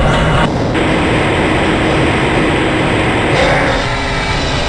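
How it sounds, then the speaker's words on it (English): Interior ride on an underground transit train in Half-Life: Blue Shift, a loud steady rumble and rolling clatter that keeps up throughout with a faint high whine above, close and alone with no talking. "This train is inbound from the Area 8 topside dormitories to the Central Transit Hub in Area 9."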